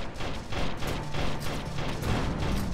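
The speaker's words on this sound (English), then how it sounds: "No, that's a shotgun on the front." A shotgun on the front of a vehicle fires in Terra Tech, a rapid, rhythmic string of loud close blasts repeating roughly every quarter second without pause, with no talk.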